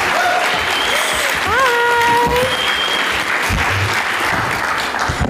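A convention audience at a Star Trek: Strange New Worlds panel applauds loudly and continuously, with a few whistles rising over the clapping.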